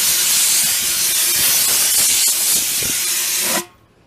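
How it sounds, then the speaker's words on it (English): Compressed-air blower blasting a steady, loud hiss into a tire being patched on an Atlas TC589 tire machine, continuous for about three and a half seconds before cutting off abruptly. "So I'm gonna blow this out with the blower."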